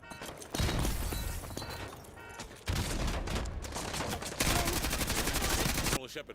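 In Call of Duty: Modern Warfare 2 Campaign Remastered, sustained loud automatic gunfire comes in dense bursts with brief lulls between them.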